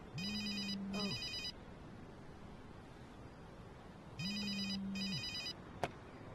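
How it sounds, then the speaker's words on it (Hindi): A telephone rings twice, each ring a warbling electronic trill with a short rising tone, separated by a quiet pause, and a brief click follows. "फोन उठाने वाले हो क्या?"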